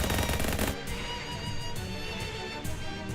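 Gunshots in the video game Shadows Over Loathing: a dense, loud burst of rapid firing at the start, fading into a sustained ringing, noisy game-sound tail.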